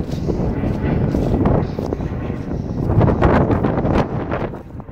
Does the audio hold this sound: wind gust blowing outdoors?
yes